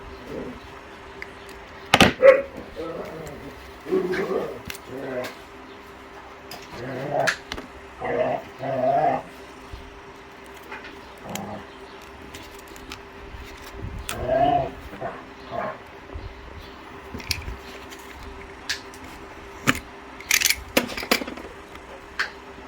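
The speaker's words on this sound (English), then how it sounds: "that snarling that you can hear in the background is just the dogs playing" Dogs growl and snarl in short, irregular bursts with occasional yips and whimpers, sounding rough but playful at a moderate distance.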